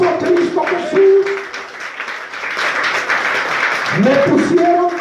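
A church congregation at a Spanish-language Christian service claps loudly in a dense, sustained burst, with a preacher's voice talking over the start and end of the applause.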